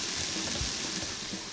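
Celery and onions frying in rendered bacon fat in a pot on the ice, giving a soft, steady sizzle that stays faint and even throughout.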